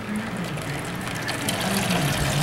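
Filtered reverse osmosis water pours steadily from a 20-gallon tank into ice block containers, a continuous close rushing fill that holds even for the whole moment with a faint low hum beneath.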